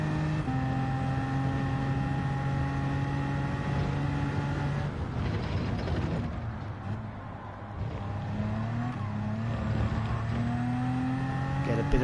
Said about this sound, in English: Bit of a skid.